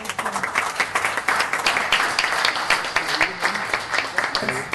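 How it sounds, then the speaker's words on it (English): Audience applause at a city council meeting, a continuous crowd of clapping hands filling the room, with voices talking faintly underneath. "let's get a round of applause"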